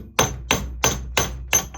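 A hammer pounds a 1.5-inch socket on a tight front nut of a Subaru TR690/TR580 CVT final drive, five loud metallic blows at a steady, roughly one-per-third-second rhythm with ringing decay, close and alone.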